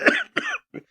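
Three short, dry coughs in quick succession, close and clear, from a character in a radio drama, the last one softer and shorter.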